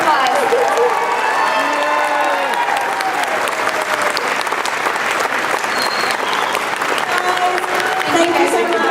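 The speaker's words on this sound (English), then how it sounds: "Let's give them a big round of applause." A convention audience at Phoenix Comicon applauds Farscape guests with loud, continuous clapping and crowd noise, while voices and excited calls mix in throughout.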